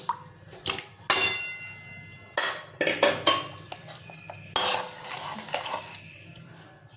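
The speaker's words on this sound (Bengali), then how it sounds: "তো এই আলুগুলো আমি এর মধ্যে ঢেলে দেবো" Cubes of boiled potato tip into a pan of fish curry gravy, with several loud clattering clinks and scrapes of utensil against metal, irregular and close.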